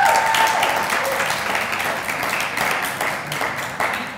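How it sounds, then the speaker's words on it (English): An audience at a student union election debate for sports candidates applauds loudly and steadily, with brief chatter mixed in under the clapping. "Can we have a round of applause,"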